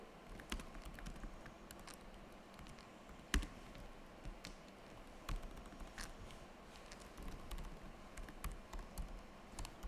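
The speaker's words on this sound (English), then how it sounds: "can anyone tell me what I'm typing now?" Keys clatter on a computer keyboard during a JavaScript workshop, soft irregular taps with a few sharper clicks, quiet and close, with no talking.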